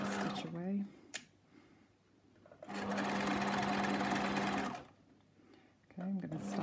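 A sewing machine stitching a coat or jacket lining runs in a steady whirring burst of about two seconds, framed by quieter handling of the fabric and a voice speaking nearby.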